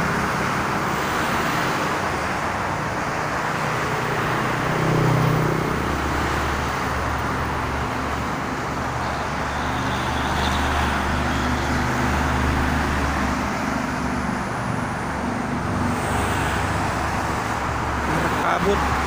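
Dense private-car traffic rolls along the Jakarta–Cikampek toll road on a foggy morning as a steady, broad roadway rumble. Passing vehicles swell gently within the din, and a voice talks over it.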